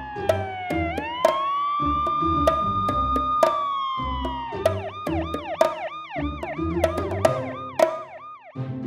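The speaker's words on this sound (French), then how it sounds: "la voiture de police. Elle est si belle avec sa sirène." A police car siren wails loud and close, first as a long rising and held tone, then as a fast repeating up-and-down yelp, with a light percussive children's song rhythm beneath.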